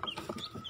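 A newly hatched chick from a balut egg gives a few quick, high peeps in rapid succession, close and fairly faint, alone with no talk.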